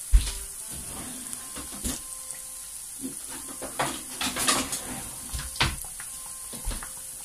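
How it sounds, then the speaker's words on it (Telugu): Mal puri sweets frying in a pan, a steady hiss of hot oil punctuated by repeated clinks and scrapes of a utensil against the pan, close and moderately loud. "ఇది మనకి గోల్డెన్ బ్రౌన్ కలర్ వచ్చేదాకా ఫ్రై చేసుకోవాలి."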